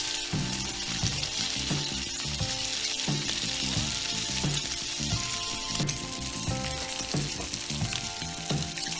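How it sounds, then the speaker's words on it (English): Bacon sizzles and crackles steadily on a Blackstone 22 inch griddle, a dense close-up frying hiss with faint irregular knocks and scrapes of utensils against the flat-top. "While the bacon is cooking"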